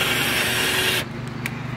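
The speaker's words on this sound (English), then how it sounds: "just a pre-drill for the holes" Power drill boring pilot holes into wood for a garden box, a loud steady whine that stops abruptly partway through, leaving only faint clicks and room hum.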